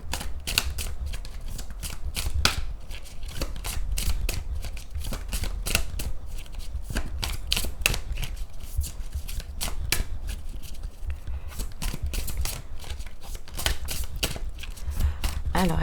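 Tarot cards being shuffled by hand, a steady run of crisp riffling clicks and flutters lasting throughout, close and moderately loud, with a voice talking softly underneath at times.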